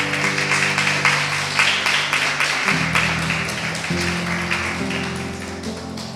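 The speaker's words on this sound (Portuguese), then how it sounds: "Você pode aplaudir o Senhor." A church congregation claps together, steady rhythmic applause over continuous background music with sustained organ-like tones, no voices standing out.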